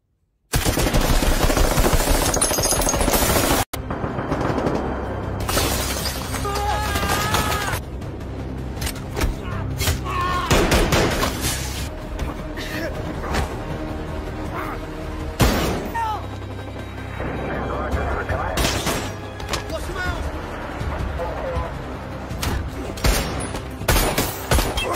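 Gunfire in an action movie, with dense bursts of rapid shots and scattered single cracks over about twenty-five seconds, loud and close, mixed with a film score and brief voices.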